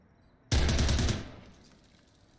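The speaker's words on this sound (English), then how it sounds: "That's a flashbang." A flashbang goes off in the tactical shooter game Zero Hour, a sudden loud burst with rapid crackling that rings on for about half a second and then decays into quiet.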